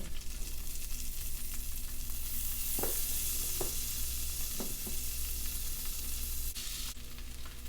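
Garlic sizzling in melted butter in a pan, a steady close frying hiss with a few soft stirring scrapes, no voices.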